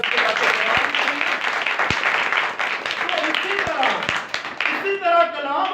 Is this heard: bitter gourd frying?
no